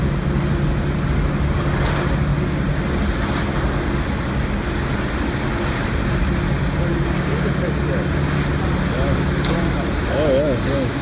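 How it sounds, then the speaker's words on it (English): The SS Badger steamship runs its engines full astern, a heavy continuous low rumble and churning roar at close range, with voices talking over it and seagull cries near the end. "Reversing the engines."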